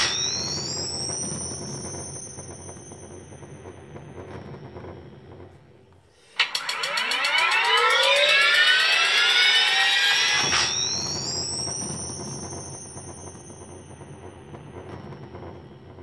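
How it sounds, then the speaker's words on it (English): Startup effect of a homemade Ghostbusters proton pack replica played through a small speaker: rising electronic whines, then a loud buzzing power-up burst with sweeping tones and a bassy rattle, easing back into a steady whine. "You may be able to hear that bassy noise at the end of the startup sound is rattling the motherboard like hell."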